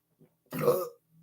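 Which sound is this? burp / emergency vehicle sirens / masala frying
burp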